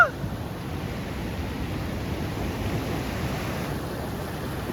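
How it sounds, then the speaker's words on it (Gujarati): Sea waves roll in along the shore during rain, a broad, steady wash of surf and wind noise that stays continuous and moderately loud throughout, with no clear single crash standing out. "આમ જો મોજા કેવા આવે છે"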